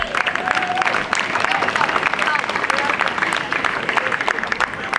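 Dense crowd applause fills an outdoor fire department parade celebrating Red Hook and Tivoli, steady and loud throughout with voices mixed in.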